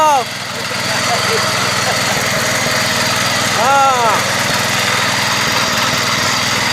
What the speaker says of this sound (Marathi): पॉवर टिलर घेऊन आलेले आहेत